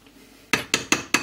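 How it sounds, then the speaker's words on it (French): A metal spoon clinks four times against a glass jar of homemade apple jam, sharp evenly spaced taps close by in a quiet kitchen. "Je vais prendre une cuillère et enlever un petit peu."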